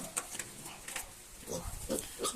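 Soft grunts and squeals from several three-week-old piglets nearby, short irregular bursts over quiet rustling.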